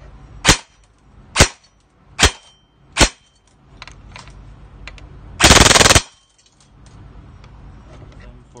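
A stock airsoft gun with an SHS high torque motor on an 11.1V LiPo battery fires four sharp single shots at an even pace, then a short loud full-auto burst, with faint handling noise between.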